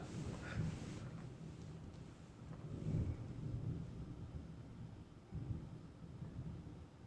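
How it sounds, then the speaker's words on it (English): Thunder rolls during a thunderstorm outside, several faint, distant low rumbles swelling and fading over steady background noise, with no speech. "It's a thunderstorm out there."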